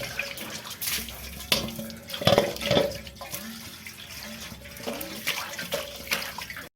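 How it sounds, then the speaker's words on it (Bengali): A plate is washed under a running kitchen tap, with a steady water stream, splashing and a few clattering knocks of the dish, close by and with no voices. "এখানে আরেকটা থাল ধোয়া হচ্ছে, এটাতে আটা সানা হবে।"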